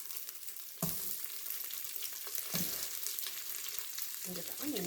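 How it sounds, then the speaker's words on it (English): Chopped onion sizzling and frying in an Instant Pot while browning for a beef stew, a steady close hiss with a few louder crackling bursts as pieces are stirred, no talking. "I'm going to throw in the onion to loosen that up. And get the onion browning a little bit."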